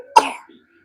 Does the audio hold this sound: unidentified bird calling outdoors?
no